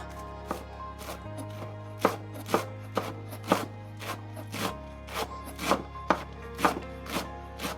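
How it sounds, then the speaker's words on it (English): Knife chopping fresh cilantro on a cutting board, a steady series of sharp, close chops with short pauses between, a low constant hum underneath. "Here I have some cilantro, and then I'm just also going to chop them up."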